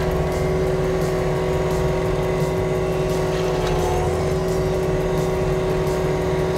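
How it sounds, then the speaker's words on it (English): A Cat stump grinder runs steadily while cutting a stump, giving a loud, continuous engine and machinery drone with a strong steady hum that holds without a break from start to finish. "sit in one position and cut your stump"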